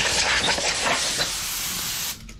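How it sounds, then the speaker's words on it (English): CRC lubricant sprayed from an aerosol can onto a chainsaw during post-use servicing, a steady close hiss lasting about two seconds before cutting off. "So I can give this a spray with some CRC now."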